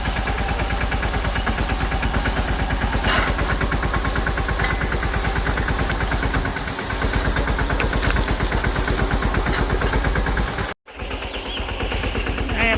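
A tractor engine chugs near and loud in rapid, even beats under a low throb, with a slight dip midway and a sharp momentary break near the end before the running resumes.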